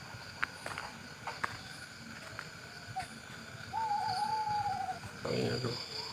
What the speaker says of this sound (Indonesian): Suara burung apaan tuh?